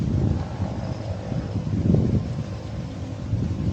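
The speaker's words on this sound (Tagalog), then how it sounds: "Malakas yung hangin eh." Strong wind buffeting an outdoor microphone at an airgun shooting range, a loud continuous low rumble and roar with no talk.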